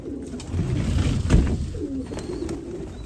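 Tumbler pigeons coo in a pigeon loft, several soft rolling coos overlapping close by, with a louder burst near the middle over a low, steady room hum.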